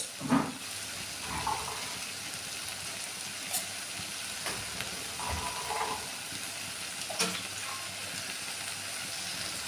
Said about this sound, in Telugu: సో టమాటో కూడా వేసేసేసి బాగా కలిపేద్దాం